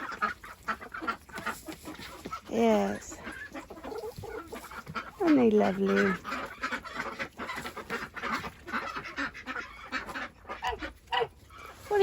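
Pet geese honk and chickens cluck in a tunnel enclosure, the calls rising in a few loud bursts over a constant low chatter of the flock, with a person talking among them.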